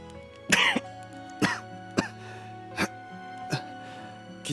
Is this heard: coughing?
yes